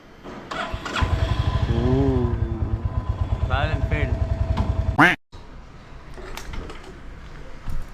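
A Royal Enfield Hunter 350 motorcycle cranks and its engine starts, settling into a close, loud, rhythmic thumping idle, with a voice speaking over it before a sharp cut and quieter background.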